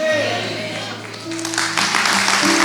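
A church congregation starts clapping while a voice or sustained music carries on, the applause swelling into a dense wash over the second half.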